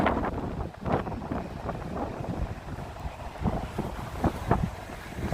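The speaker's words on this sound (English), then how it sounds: "It's very windy here" Wind buffets a phone microphone with a partly broken windshield on an outdoor evening walk in Tokyo, a steady rumbling roar with gusty swells and no talk.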